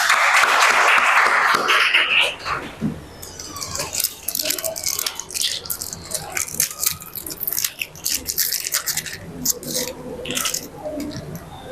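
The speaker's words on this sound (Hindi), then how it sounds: "ताली बजाइए" Classroom applause for a girl's birthday during a maths lesson, a loud burst of clapping for the first two seconds, then scattered claps and chatter fading under the room's talk.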